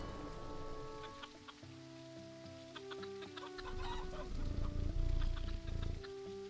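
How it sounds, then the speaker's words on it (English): Chickens clucking in a farm video game, short bright clucks scattered throughout over a steady musical backdrop and soft rain-like ambience, no talking. "You play nicely with the chickens, Sarah."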